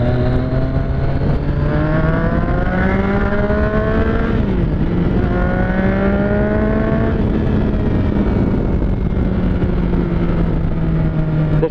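A car accelerates through the gears, its engine note climbing in pitch, dropping at a shift, then rising again in a loud, close, continuous drone with no talking.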